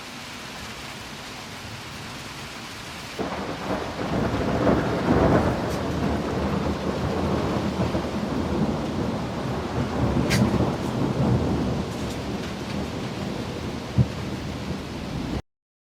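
Steady rain hisses across a farm during a storm, starting abruptly after a quiet moment, with low rumbling underneath that suggests distant thunder.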